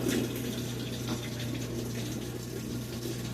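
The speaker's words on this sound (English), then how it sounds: "Just putting water in." Water running steadily into a high-efficiency top-load washer during a recalibration fill, a constant moderate rush with a low steady hum underneath and no talk.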